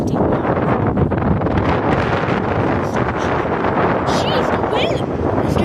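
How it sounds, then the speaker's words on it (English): Strong gusting wind batters a microphone outdoors, a constant loud roar and buffeting rumble that never lets up, with faint voices partly buried underneath. "the wind is getting crazy"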